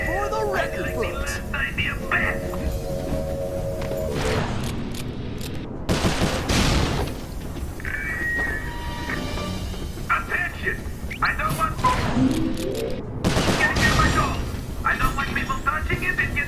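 Gunfire in the game Sly 4: Thieves in Time, with bursts of shots over busy game sound effects and music, mixed under frequent talking.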